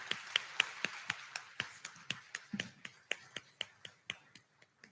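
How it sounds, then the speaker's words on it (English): Close, crisp claps from a single pair of hands ring out at an 8th grade graduation in a steady rhythm of about four per second, gradually softening and slowing toward the end. "One more round of applause for all of our students."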